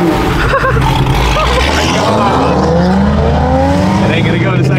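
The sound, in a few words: Ford Mustang S650 engine revving to 5,000 RPM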